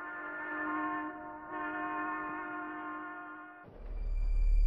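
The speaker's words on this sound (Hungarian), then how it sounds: "Ha a vonat távolodik, megnyúlnak a hullámok, és a hosszabb hullámok mélyebbek." A train horn sounds as the train passes by and recedes, its sustained tones stepping down in pitch with the Doppler effect before giving way to a low rumble of the passing train.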